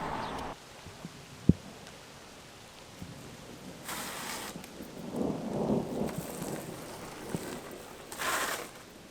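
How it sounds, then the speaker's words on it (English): Outdoor rain patters steadily while distant thunder rolls and rumbles low in the background, with a sharp knock near the start and a few brief noise bursts; no voices. "It's raining, so we're leaving."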